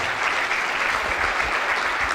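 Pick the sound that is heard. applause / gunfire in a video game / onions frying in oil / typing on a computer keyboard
applause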